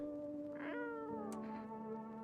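A cat in a video game lets out a single drawn-out meow, rising and then falling in pitch, fairly close and clear over a steady low background hum.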